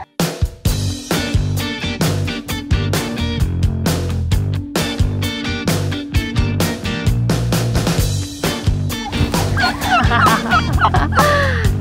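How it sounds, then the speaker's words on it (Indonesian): Dense, busy clatter of poultry calls with repeated gobbling bursts from several blue slate turkeys, continuous and fairly loud throughout. "Jenis kalkun tuh ada banyak, salah satunya ini blue slate."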